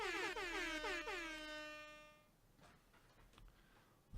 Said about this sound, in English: As long as we have the air horn, that's all that matters.